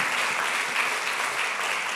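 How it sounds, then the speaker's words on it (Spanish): A church congregation gives sustained applause during a Sunday service. The many hands form a steady, fairly distant wash with no voices on top. "Démosle un aplauso al Señor."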